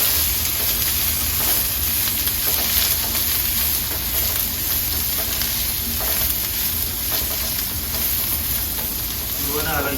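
A wooden ladle stirs food in a non-stick pan, a continuous close sizzle with soft scraping and stirring textures running steadily for ten seconds, fairly loud throughout.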